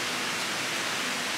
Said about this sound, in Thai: ถึงแล้วน้ำตกป่าหวาย